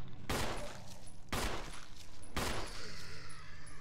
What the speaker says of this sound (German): Wie viele Schüsse habe ich denn noch? Vier. Na gut, die kann ich jetzt auch noch abfeuern.